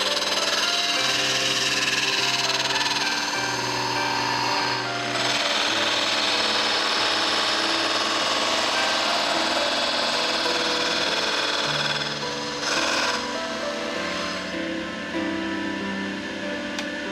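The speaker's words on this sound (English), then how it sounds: "The next step is to trim the excess fiberglass material from the bandura back to the proper" A power tool grinds and rasps steadily while trimming excess fiberglass from the back of a bandura, a continuous loud abrasive whine with small shifts in pitch throughout.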